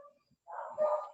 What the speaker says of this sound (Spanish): perdón por mi perro que está